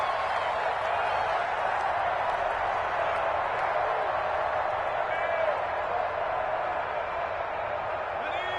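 Stadium crowd in a football video game, a steady broad wash of cheering and murmuring that holds at a constant level, distant and unbroken, with faint whistles rising briefly.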